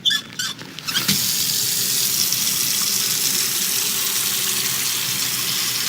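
Water pouring from a tap into a container in the video game Autopsy, a steady loud hiss of running water after a few brief clunks and splashes at the start.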